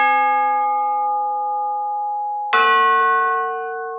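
Crotales-style chimes ring clearly alone: one sustained bright metallic tone decays slowly, then a second struck chord rings out with rich overtones and a long fade.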